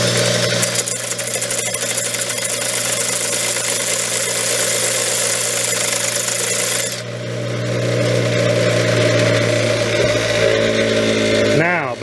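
A drill bit being sharpened, with the drill running in reverse and pressed against a bench grinder. A loud, steady motor whir holds throughout, shifts in tone around midway and winds down at the very end.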